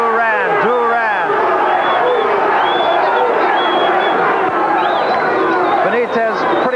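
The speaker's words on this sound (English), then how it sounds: "Crowd on its feet. Duran, Duran." A boxing arena crowd rises to its feet, roaring, cheering and chanting a fighter's name in a loud, dense, continuous wall of voices with rhythmic chant swells.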